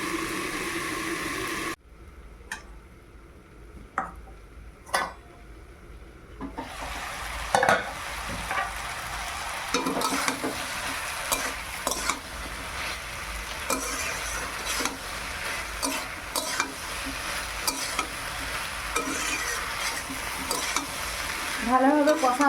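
Bottle gourd stem curry frying and being stirred in a pan, a continuous sizzle with repeated scraping stirs; a brief quieter stretch early on before the frying builds and stays steady, close and alone.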